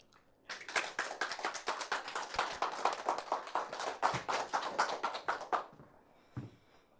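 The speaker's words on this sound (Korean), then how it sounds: "큰 박수로 청해 주십시오." Audience applause welcoming a speaker onto the stage at a Korean talk event, a dense burst of handclaps lasting about five seconds before fading out.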